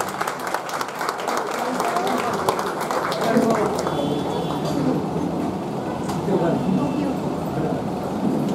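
An audience claps during a Guru Purnima function at the Kaka Saheb Dixit Trust of Shree Sai Baba on Hanuman Road, Vile Parle. The applause is loud and sustained, a dense patter that swells and holds with voices mixed in.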